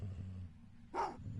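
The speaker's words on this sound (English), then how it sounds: "That dog attacked as soon as you entered your neighbourhood." A dog in the Goosebumps video game lets out a low growl, then one short, sharp bark, fairly close and moderately loud against a quiet background.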